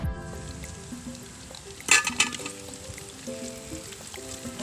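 Raisins frying in a hot pan for fruit payasam: a steady soft sizzle with a brief burst of crackling and a spoon clinking against the pan midway, close and without talk.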